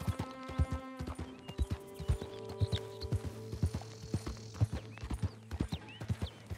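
Horse hooves clip-clop in Red Dead Redemption 2, a steady run of sharp, close hoofbeats over game music and ambient tones, with no one talking.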